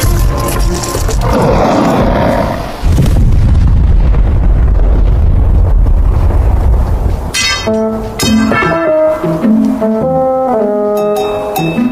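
Skeleton minions blowing themselves up in an anime fight scene, heard as a loud sustained roaring blast with heavy low rumble for several seconds, then giving way to dramatic music.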